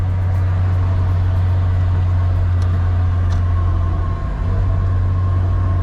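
A 1993 Opel Corsa 1.4i automatic with a fault drives slowly in limp mode, its engine giving a loud, steady low drone with a constant hum inside the cabin and no talking.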